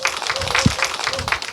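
An audience at a humanities concert lecture on AI and coexistence claps together, a steady wash of applause that holds at an even level throughout, with a brief low thump partway through.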